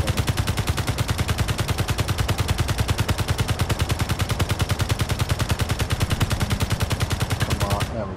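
Automatic strip turret fire in Space Engineers, a rapid, steady stream of loud close gunshots in a tight, even rhythm that runs unbroken for about eight seconds before cutting off.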